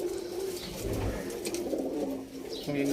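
Breeder pigeons in a loft give low, steady cooing that runs continuously at moderate volume, with a voice talking faintly in the background.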